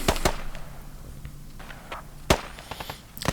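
Gunshots in the realistic military video game Squad sound as loud, sharp cracks: a few at the start, a single strong one partway through, and more at the end, with quieter background rumble between them.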